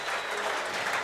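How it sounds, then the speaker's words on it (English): A crowd at a rugby league match gives a warm ovation for a try, sustained applause and cheering filling the whole moment evenly without pause. "getting an ovation from the crowd"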